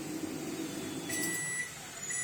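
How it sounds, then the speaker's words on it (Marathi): Electronic beeps from a microwave oven finishing a 3-minute cook at 900 power with a bowl of tempering inside, thin tones sounding briefly over a low kitchen hum. "बजर झालेला आहे"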